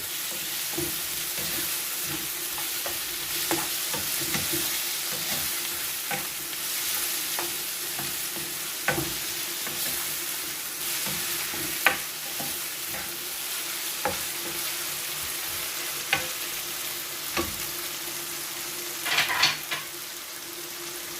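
A cassava flour dish with bouillon cube stirred in a pot over the heat: continuous sizzling with a long run of rhythmic scraping strokes and occasional sharper knocks of the utensil against the pot, close and without talking.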